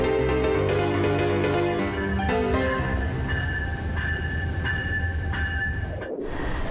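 A long-distance passenger train in the USA rolling along the rails with a loud, continuous rumble and high metallic wheel screech, close and steady before cutting off abruptly at the end.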